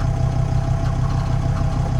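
Mercedes T1 van engine idling quietly with a compression leak and wet belt, engine cover off, a low steady hum with a soft even clatter, close by and unchanging.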